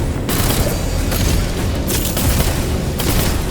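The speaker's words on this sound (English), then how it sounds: "just sending missiles everywhere" Missiles launch in the video game Wayfinder as a dense, continuous barrage of loud booms and whooshing blasts, overlapping without pause from start to finish.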